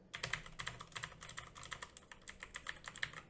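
Typing on a mechanical keyboard with blue switches, a quick, steady run of crisp clicky keystrokes, close and fairly quiet, with no voices.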